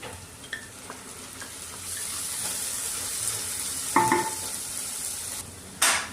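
Sizzle of green chili, onion and tomato hitting hot oil with cumin and curry leaves in a pan, a steady hiss that swells with a few sharp bursts as ingredients are added and stirred.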